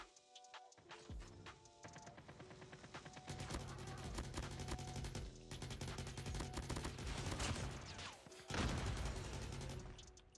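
Dense automatic rifle and machine-gun fire from an RPD light machine gun in the mobile shooter Call of Duty Mobile, with sustained rapid bursts, overlapping shots and crashing impacts that build louder toward the end.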